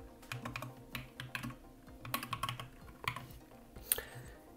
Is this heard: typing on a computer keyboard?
yes